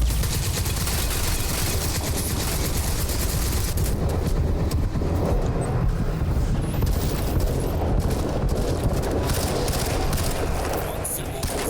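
Heavy weapon fire in the video game Crysis 2: dense, loud volleys of rapid shots and booms pile up throughout, easing slightly toward the end, with a voice occasionally audible under the shooting.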